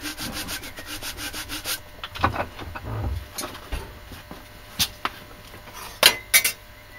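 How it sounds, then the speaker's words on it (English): Wet sandpaper rubbed back and forth in steady scraping strokes, close and fairly quiet, with a few sharper scuffs near the end and no talk. "Sandpaper wet now."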